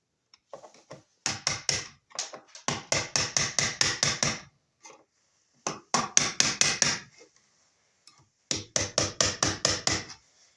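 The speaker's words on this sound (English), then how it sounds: "this ring's a little loose here, so I'll just tap it and tighten it up a little bit" A loose metal ring on an electrical box is tapped in quick bursts of sharp, bright knocks, several rapid rhythmic series separated by short pauses, close and alone.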